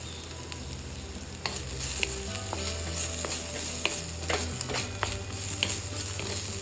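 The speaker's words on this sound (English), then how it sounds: "So here goes the diced onions." Diced onion frying with grated garlic and ginger in a pan for paneer chilli gravy, a steady close sizzle with clinks and scrapes of a spoon stirring throughout, alone without talk.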